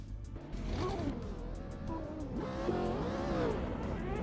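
Engines of rival cars in a sim racing video game driven with a direct-drive wheel, a steady mix of revving and shifting engine notes that rise and fall throughout, fairly loud and continuous with no talk.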